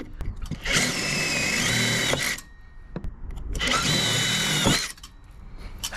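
A power drill fitted with an 8mm bit bores a hole into a campervan panel for awning fitting, running in two loud, close whining bursts of a couple of seconds each with a short gap between.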